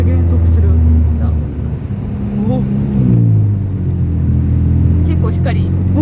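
A Honda CR-Z slows down while being driven, its engine note dropping and rumbling steadily inside the cabin as people talk over it.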